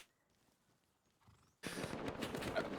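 Horse from the Rust video game during a 4v4 tournament event: a loud burst of neighing and hoof clatter bursts in after quiet, continuing densely to the end, with no talk.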